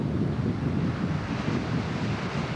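Ocean surf rolls in steadily at Pismo Beach, a dense low roar of breaking waves mixed with wind buffeting the microphone, constant and fairly loud without pauses.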